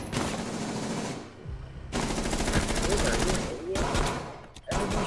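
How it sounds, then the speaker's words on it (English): Rapid bursts of automatic gunfire from several weapons in a tense Rainbow Six Siege round, loud and near, with short pauses between volleys and players talking over the shooting. "Everyone's shooting here."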